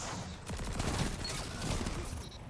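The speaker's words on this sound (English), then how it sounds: "he was shooting at me" Gunfire in a shooter video game sounds as a dense burst of rapid shots, loud and continuous over a rumbling background.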